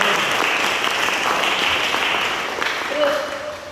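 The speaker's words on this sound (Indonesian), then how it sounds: "tepuk tangan buat kita" A seminar audience of insurance agents applauds in one loud, continuous burst of mixed clapping that eases slightly toward the end, with a brief tonal sound near the close.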